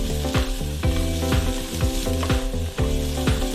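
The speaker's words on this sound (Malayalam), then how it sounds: "അത്യാവശ്യം ഇതിൻ്റെ പച്ചപ്പൊക്കെ ഒന്ന് പോകുന്നവരെ നമുക്ക് ഒന്ന് ശരിയായി ചൂടാക്കി എടുക്കാം." Green chillies sizzle and crackle in a hot pan while being stirred for an egg sandwich, a steady frying hiss with regular stirring knocks under a rhythmic layer of background music.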